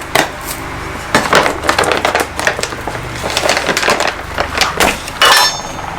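Potting soil mix is scooped and dumped into soil for seed propagation trays, making a close series of gritty crunching and scraping scoops with brief pauses between them.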